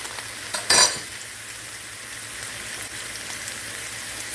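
Butter dropping into a hot pan of canned green beans gives a brief loud sizzle burst near the start, then settles to a steady faint hiss with no talk.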